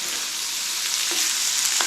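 Bitter gourd frying in a pan as it is stirred, a steady close sizzle with a few soft scrapes of the spoon, no voices.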